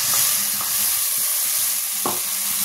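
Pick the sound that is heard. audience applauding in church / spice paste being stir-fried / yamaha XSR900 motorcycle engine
spice paste being stir-fried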